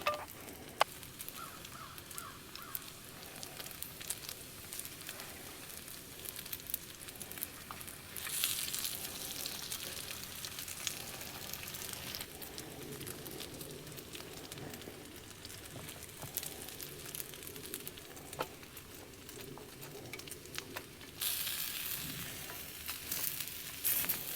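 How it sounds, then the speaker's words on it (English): Bacon sizzles on a griddle at a riverbank truck camp, a quiet, steady frying hiss that grows louder in bursts over about twenty-four seconds, with occasional scraping and utensil clicks. "We'll throw the bacon in there next."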